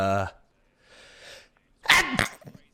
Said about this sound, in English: instead I'll just keep sneezing.